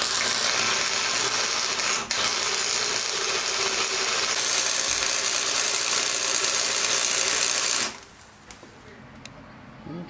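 Welding on a mini chopper while fitting training wheels makes a loud, steady crackling hiss that runs for about eight seconds, then stops abruptly, leaving quieter shop noise with a few small clicks.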